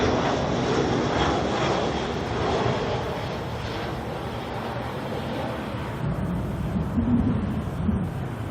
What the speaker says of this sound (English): Alright, Jetstar coming in now from Christchurch, JQ236. Another Jetstar A320.